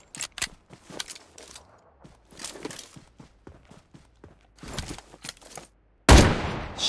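Gunfire from a CheyTac M200 sniper rifle in PUBG Mobile: scattered sharp shots and clicks with footstep-like taps, ending in one loud, close blast that rings out and decays.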